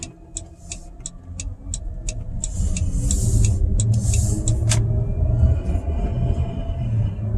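A car passes on a road while another vehicle waits at a red light to turn right: a steady engine rumble swells and holds close by, with the waiting vehicle's turn signal ticking rhythmically over it.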